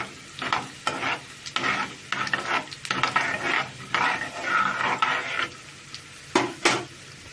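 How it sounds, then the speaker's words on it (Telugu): Mustard seeds, cumin and chana dal crackle in hot oil in a pan for a tempering, with an ongoing sizzle broken by repeated scraping stirs of a spoon against the pan at close range and no talking. "ఆవాలు చిట్టుపట్లు ఆడుతున్నాయి కదా"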